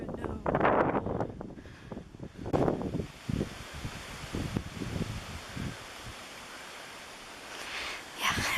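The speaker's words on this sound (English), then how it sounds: "It's so windy right now." Steady gusty wind rumbles and rustles against the microphone, with a person talking over it early on before the blowing continues alone.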